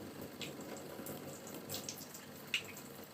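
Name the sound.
sink filling with water from the tap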